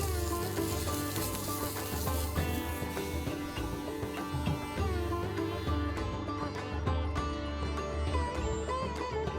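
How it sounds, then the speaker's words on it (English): Vegetable oil sizzling on a hot dosa griddle as a cut onion spreads it across the pan, a steady crackling hiss with light scraping under soft background music. "just a drop of vegetable oil, and with the help of this onion, I'm going to spread this in the entire pan"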